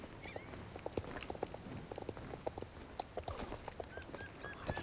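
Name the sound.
pony hooves clip-clopping in Star Stable video game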